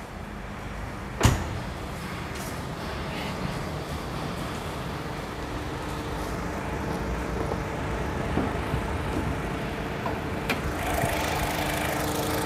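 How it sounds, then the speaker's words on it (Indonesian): A Honda HR-V engine idles steadily with the air conditioning on, at low volume with a faint mechanical hum, a sharp click near the start and another later, no voices. "Nah, ini suara mesinnya."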